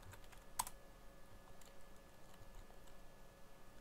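Typing on a computer keyboard: faint, scattered key clicks, with one sharper tap near the start, over a quiet room hum.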